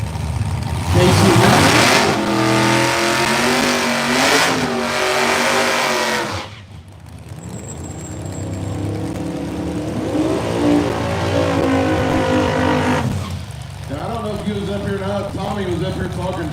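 Drag race cars roar off the line at a no-prep race at KD Motorsports Park, engines revving hard and loud, a brief gap, then another car accelerating, with an announcer talking over the noise.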